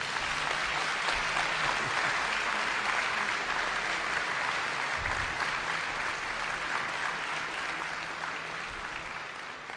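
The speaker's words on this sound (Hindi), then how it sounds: "इनके लिए जोरदार तालियां." An audience at a Nirankari spiritual gathering claps in sustained, dense applause for the elders, a fairly distant, even wash of many hands that slowly fades toward the end.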